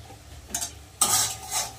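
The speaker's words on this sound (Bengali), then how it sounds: "এখানে কিন্তু মশলা কষাচ্ছি।" Fish curry masala with salt is stir-fried in a pan, with two bursts of sizzling and scraping from a spatula, close and fairly loud.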